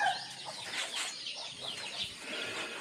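Chickens cluck and flap their wings close by, short bursts of fluttering and clucks over a quiet background.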